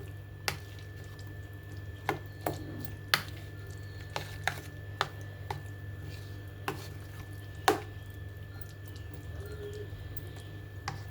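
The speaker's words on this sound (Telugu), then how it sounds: "ముక్కలు మాత్రం సన్నగా తరుక్కోవాలి" A knife finely chopping vegetables on a board in sparse, irregular strikes against a steady low hum, each cut a sharp click.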